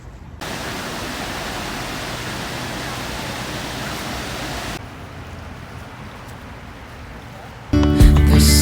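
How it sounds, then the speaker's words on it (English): River water rushing in a steady, loud broadband wash that continues without break, softening partway through before a louder burst of noise at the end. "A river. Look at that."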